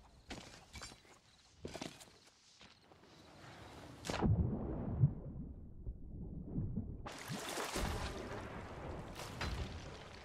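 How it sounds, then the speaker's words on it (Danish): Cannon fire from a skeleton crew in the pirate game Sea of Thieves: a heavy booming blast rolls in midway, followed by rumbling, crackling noise and a second burst of broadband roar, with scattered thuds earlier. "det er skelet, der har fået fat i kanonen nu"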